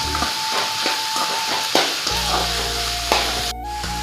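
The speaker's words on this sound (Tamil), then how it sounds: "குடமிளகா சேர்த்துக்கலாங்க இது ரொம்ப வதங்கணும்னு அவசியம் இல்லைங்க ஒரு பாதி வேக்காடு வந்தால் போதும்" Capsicum and onion sautéing in a pan for idli manchurian give a steady close sizzle, with occasional scrapes and stirs against the metal.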